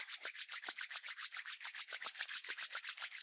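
Palms rubbing briskly together in a steady, rapid back-and-forth rhythm of dry friction strokes, close and fairly quiet, with no talking, during a yoga energy exercise.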